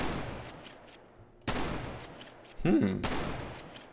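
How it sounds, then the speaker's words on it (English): Gunfire aimed at a wall in GTA San Andreas multiplayer (SAMP), with two sudden loud bursts of shots about a second and a half apart, each followed by a lingering noisy tail over low game ambience. "If I shoot at the wall next to him, look what happens."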